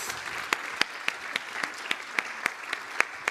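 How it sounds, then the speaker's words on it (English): Sparse, evenly spaced claps from an audience at an awards ceremony for agrifood innovation recipients, each clap a sharp separate hit at a moderate, steady pace. "I think they all deserve a big round of applause"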